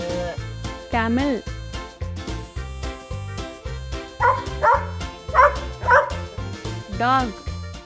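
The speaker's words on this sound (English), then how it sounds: "dog," A dog barks several times in quick succession, over a steady repeating musical backing.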